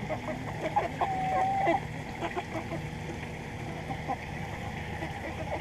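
A rooster in a backyard garden flock gives a soft clucking call near the start, then low scattered clucks over a steady outdoor background hum, fairly faint.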